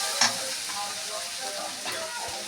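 Paneer masala being sautéed in a pan, a soft continuous sizzle with faint stirring scrapes, quiet and close, with a brief clink near the start.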